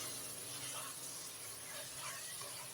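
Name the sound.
mutton sautéing in oil with onion and tomato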